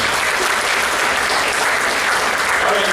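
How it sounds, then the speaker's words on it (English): A banquet audience at an annual all-sports banquet gives a big round of applause, dense and loud clapping that stays steady and unbroken throughout. "Give yourselves a big round of applause"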